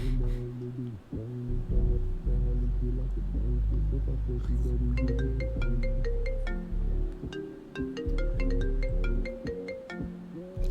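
A bright, repeating phone-ringtone melody joins partway through a rap song. It plays over a steady, heavy bass-driven beat that runs the whole time.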